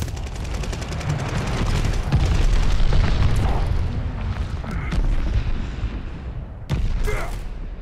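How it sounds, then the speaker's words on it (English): Heavy bombing explosions rumble in Call of Duty: Vanguard free-for-all gameplay, booming repeatedly with rolling low blasts and a burst of sharp gunfire, loud and sustained through the whole stretch. "Bombing"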